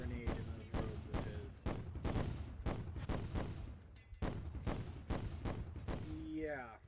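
A holy hand grenade goes off in Myth: The Fallen Lords, a rapid string of sharp booming blasts and crackling impacts, fairly loud, with a brief voice near the end.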